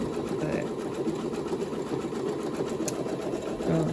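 A close embroidery sewing machine stitches a full Minnie Mouse design, giving a steady, rapid mechanical whir that runs unbroken while a person talks over it.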